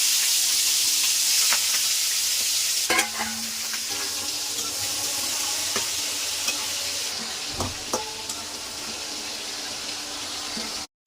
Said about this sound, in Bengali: এখন পেঁয়াজ দিয়ে দিলাম, আগে থেকে এগুলো ভেজে নিচ্ছি।